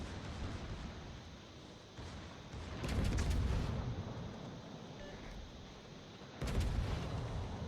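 Naval gunfire in the World of Warships video game as ships duel with the battleship Ohio: two heavy booming salvos, one around the middle and one near the end, over a steady rumbling battle ambience with no talk.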